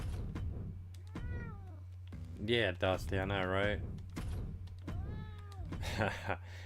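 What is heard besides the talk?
pet cat meowing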